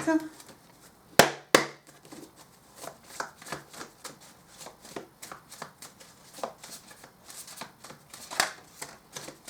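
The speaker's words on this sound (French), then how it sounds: "On va prendre maintenant des petites cartes manuscrites." Small handwritten cards being shuffled and handled, giving a run of soft, rhythmic riffling flicks with a couple of sharper snaps near the start, close by and with a voice at times.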